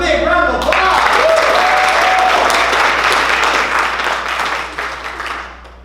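Audience at a spring class show for level 1 students breaks into loud, sustained applause, clapping filling the room for several seconds before gradually thinning out and fading at the end.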